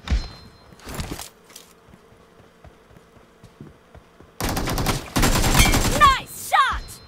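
Gunfire in PUBG Mobile: a few scattered shots, then dense rapid automatic bursts in two long volleys, loud and close, with faint footsteps in the quieter stretch and a voice briefly speaking.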